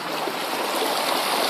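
Creek water flows steadily at a gold prospecting dig, a close, constant rushing hiss with no breaks and no voices.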